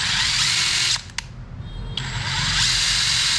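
A used 14.4V Makita cordless drill with a grimy switch runs at speed, whirring loudly, cutting out briefly around the one-second mark, then spinning back up to a steady high whine; no one speaks.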